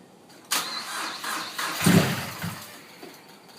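A 2012 Mazdaspeed 3 engine starting after a rebuild: a starter whirr, then the engine catching with a rough, rising burst and settling into an uneven idle, close by.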